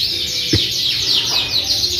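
Chirps and tweets from a crossbred canary, a Yorkshire male crossed with a Scotch Fancy female, come as short repeated bright calls close by over a steady background hiss.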